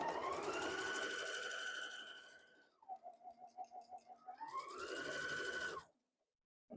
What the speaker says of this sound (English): we're gonna sew down this side.